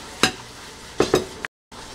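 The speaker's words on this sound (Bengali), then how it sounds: "মশলাটা এখন কষানো হয়ে গিয়েছে" Turmeric, chilli, coriander and salt are sautéed in oil for a rohu fish curry, with a low sizzle under a few close scrapes and clinks of a spoon stirring against the pan, ending in a short silent gap.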